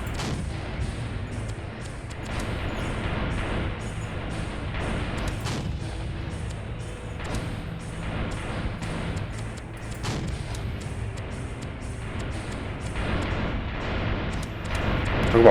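Continuous rumbling bombardment in Ravenfield, the dense low booms and crackling gunfire of an AC-130 attack on a town, steady and loud throughout with repeated thuds and no pauses.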